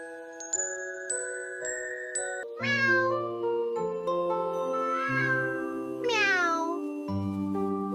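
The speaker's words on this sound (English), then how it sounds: "Meow." Cartoon cat meowing in a jungle adventure cartoon, several short tonal meows over a bright tinkling musical backdrop, close and clear.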